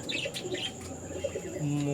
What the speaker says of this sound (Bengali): সুভাষিসদার চ্যানেল থেকে সোমেনদার কাছ থেকে পায়রা কটা নিয়েছি।